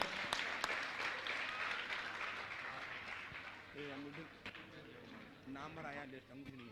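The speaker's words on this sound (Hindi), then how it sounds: "इंदौर वालों से चाहूंगा जोरदार ताली बजाकर इनका सम्मान करें।" Audience in Indore applauding during a Jain religious gathering, a steady crowd clapping that fades somewhat later as a voice begins speaking over it.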